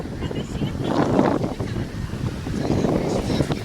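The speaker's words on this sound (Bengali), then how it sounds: "প্রচন্ড হাওয়া" Strong wind gusts roar and buffet the microphone in swelling waves, with a faint wash of surf underneath, on the beach at Digha.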